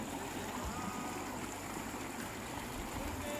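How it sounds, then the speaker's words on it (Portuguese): A flooded stream rushes past a house after heavy rains, a steady, dense roar of churning water filling the whole scene with no letup. "Esse é o riacho que passa lá"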